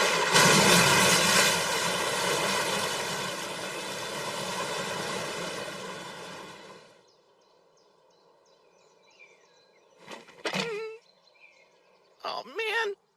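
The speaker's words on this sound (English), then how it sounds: "Now to blast the jets from points along my back." An anime water jet blast effect gives a loud, sustained rushing roar for about seven seconds, then cuts off abruptly. Short, sharp vocal exclamations follow in the quiet.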